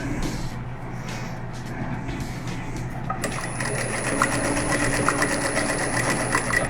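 A sewing machine stitches a lace border onto a cotton dish towel, starting quietly and then settling into a steady, rapid whirring hum with faint mechanical ticking close by, and no one is talking.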